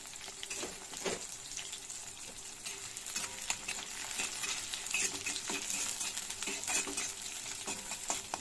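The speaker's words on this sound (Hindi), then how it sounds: "लौंग, इलायची, दालचीनी, इन सबको इसमें दे रही हूँ अच्छे से फ्राई हो जाए।" Cloves, cardamom, cinnamon, onion and garlic frying in a pan, a faint steady sizzle broken by occasional scrapes and stirring clinks.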